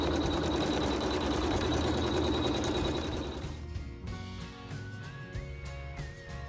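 An embroidery machine stitches wool onto fabric stretched in a hoop, a fast steady mechanical whir and needle chatter for about three and a half seconds, then stopping as quieter background noise remains.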